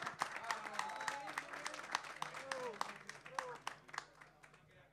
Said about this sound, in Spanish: le damos este fuerte aplauso a la ganadora